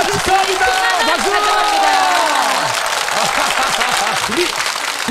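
A TV game show studio audience applauds and cheers loudly and continuously, with voices shouting over the clapping.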